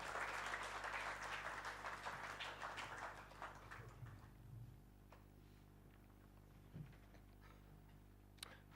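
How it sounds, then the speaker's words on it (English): An audience claps to welcome a speaker at a solar energy conference, the applause fairly faint and distant, fading out after about four seconds into a quiet room with a few scattered taps. "Please welcome Pandan Saab with a big clap"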